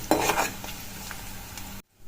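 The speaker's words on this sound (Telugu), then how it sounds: "ఇప్పుడు మనం ఇందులోకి పసుపు వేసుకొని కలుపుకోవాలి." Turmeric being stirred into a sizzling brinjal tempering in hot oil, a brief close hiss with a couple of spoon scrapes, ending abruptly in silence.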